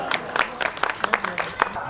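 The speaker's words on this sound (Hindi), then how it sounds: "इसके लिए एक बार जोरदार तालियां।" Scattered audience clapping at a Rama Bhartiya Kala Kendra stage performance, heard as a short burst of separate, fairly close claps over a murmuring background.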